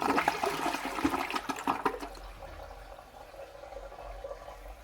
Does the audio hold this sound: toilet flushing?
yes